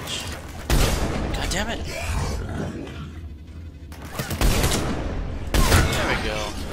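Rapid bursts of gunfire ring out while shooting husks in the video game Mass Effect 3, loud and repeated, with someone talking and cursing over the shots.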